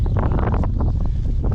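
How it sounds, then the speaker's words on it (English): Strong wind gusting across a microphone while fishing from a boat on a cold day, heavy low buffeting rumble with choppy bursts throughout, loud and close. "That wind is making this hard."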